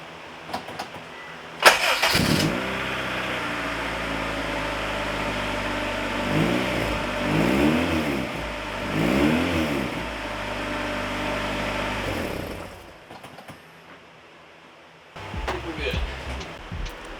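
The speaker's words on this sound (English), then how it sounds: "Let's see if the exhaust is quiet again." Honda Civic EF engine and exhaust starting with a sharp crank, then running with repeated revs rising and falling over a steady idle, close by, before cutting off and restarting briefly.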